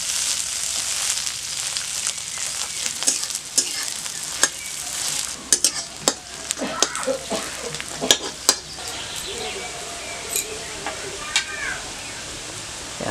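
Chopped onions, green chili and whole cumin fry in a pan for a fish curry, a bright sizzle broken by repeated sharp spatula clacks and scrapes as the pan is stirred, up close.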